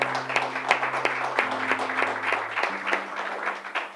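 Church congregation applause, steady clapping over sustained musical tones from a keyboard, continuing for several seconds.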